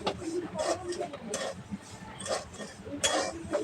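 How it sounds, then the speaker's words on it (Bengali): Spoon scraping and clinking against a pan as semolina (suji) is stirred and dry-fried for spicy jhal suji, a series of soft irregular scrapes and taps with faint background voices. "সুজিটাকে আমরা ঘন ঘন নাড়তে থাকবো"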